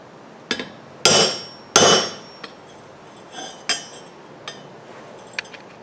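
A hammer strikes metal in sharp, irregular blows to indent marks, two loud ringing hits followed by several lighter taps, with quiet gaps between, while building a propane forge.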